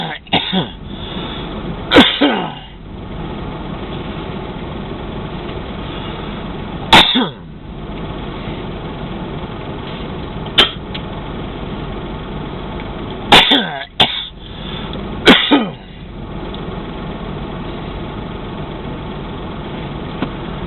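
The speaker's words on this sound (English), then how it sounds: "There is a payoff, but it's some pretty heavy coughing." Several harsh, heavy coughing bursts at irregular intervals, close and loud, over the steady drone of an idling engine.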